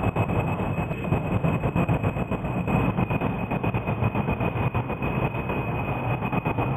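Rocket engines in the video game Kerbal Space Program roar steadily with a droning rumble, a sustained high whine and rapid rhythmic pulsing, loud and continuous without talk.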